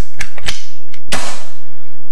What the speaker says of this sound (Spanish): Podemos hacer un disparo, sí, un disparo ustedes tranquilo, no pasa nada. Para que escuchen cómo suena